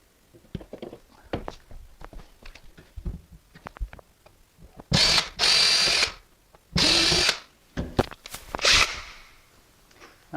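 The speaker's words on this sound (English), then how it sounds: "I've got this longer screw bit driver." Power drill fitted with a long screw bit driving screws while fitting vinyl drawer slides into old steel kitchen cabinets: several loud, sustained whirring bursts of one to two seconds each, with quieter handling clatter between them.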